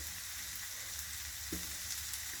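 Crushed garlic sizzles in hot oil in a pan for a bitter gourd fry, a quiet, steady crackling hiss with a small clink near the middle.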